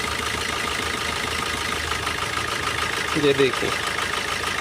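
A car engine idles with one fuel injector shut off through a scan tool, running rough with heavy vibration. The steady, close idle churns throughout while someone speaks briefly near the end.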